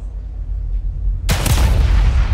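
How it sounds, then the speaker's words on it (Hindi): A sudden loud blast of gunfire and explosion in The Evil Within 2 cuts in after a low rumbling quiet, then crackles and booms on with a rough, noisy roar. "हाँ देखा धमाका है वो"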